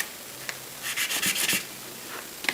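Acrylic pieces being sanded by hand in short bursts of rubbing and scraping, a few quick strokes then a steadier run, close and fairly quiet.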